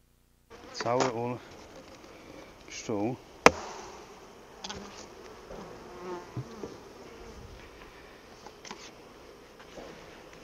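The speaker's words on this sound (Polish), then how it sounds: "Cały ul pszczół." A dense honeybee hive buzz hums steadily throughout, with a few louder bursts and clicks near the start, many bees close by.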